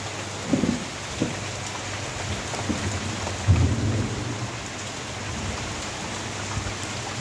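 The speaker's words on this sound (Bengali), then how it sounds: "কি সুন্দর ঝমঝমিয়ে বৃষ্টি হচ্ছে।" Heavy rain pours steadily outside, a dense even hiss, with low rumbles of thunder rolling in twice during the downpour.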